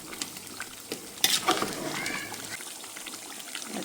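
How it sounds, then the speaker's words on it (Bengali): A pot of beef curry bubbles and sizzles softly nearby, with faint stirring and gurgling sounds. "এই হাঁড়িতে রান্না হচ্ছে গরুর মাংস ঝুলে টকবক করছে"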